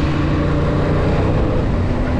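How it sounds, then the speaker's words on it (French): A Yamaha MT-07 motorcycle, in a 2022 A2 version, runs with a loud, steady engine drone and heavy low rumble, close and unbroken throughout, with no voices. "Le moteur de l'MT-07 franchement il est vraiment agréable"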